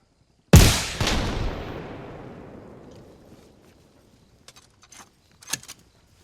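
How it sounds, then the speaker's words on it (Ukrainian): An RPG shot in the video game Arma Reforger, a sharp heavy blast followed by a second boom and a long rumbling tail that fades over a few seconds, then a few faint short cracks of gunfire further off. "навчився стріляти з РПГ"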